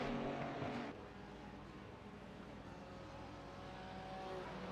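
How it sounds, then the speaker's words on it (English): A GT race car engine drones steadily at Spa-Francorchamps in an iRacing GT Open sim race, a sustained mid-distance engine roar that dips slightly after the first second and holds fairly level to the end. "I can hear his engine."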